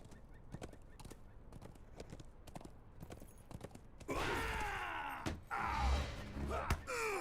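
Horse hooves clip-clopping in the fantasy online game LOTRO, a steady run of hoofbeats under the game's ambience, then a louder burst of combat effects and whooshes taking over the second half.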